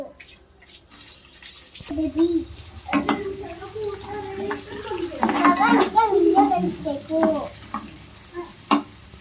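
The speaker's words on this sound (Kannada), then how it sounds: "ಚಟಪಟ ಅಂತ ಇದೆ." Spices tempering in hot oil for uppittu crackle and pop in a pan, with stirring scrapes and intermittent spluttering bursts under a voice talking throughout.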